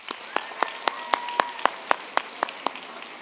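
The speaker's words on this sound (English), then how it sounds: "please stand for a round of applause" Steady, rhythmic clapping at an Alabama DECA event, about a dozen evenly spaced beats, like an audience clapping together in time.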